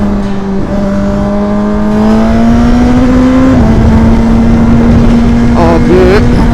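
A Suzuki GSX-R 1000 motorcycle engine warms up, holding a loud steady idle whose pitch gradually rises and stays high and close throughout, with a brief bump midway.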